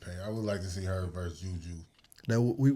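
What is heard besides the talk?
No everyday noise stands out behind the speech.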